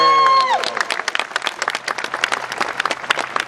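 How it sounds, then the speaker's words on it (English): An audience at a dolphin show at Six Flags Discovery Kingdom breaks into applause, a dense patter of many hands clapping that fills the space right after a short cheer. "They just need a little bit of applause for that"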